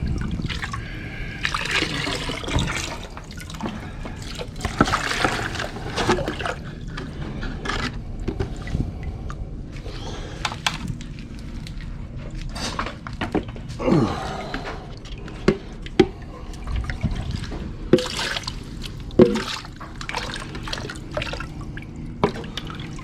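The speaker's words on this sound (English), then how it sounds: "Just swishing out the bowl" Water swished and sloshed around a gold pan bowl while panning crushed quartz, steady close trickling and splashing with drips throughout, alone.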